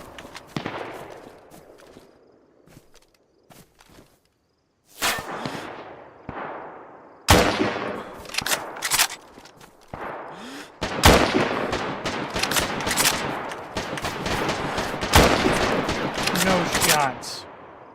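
Gunfire in the video game DayZ, bursts of rapid shots and single cracks, some distant and some close and loud, coming in clusters over several seconds, with someone talking over parts of it.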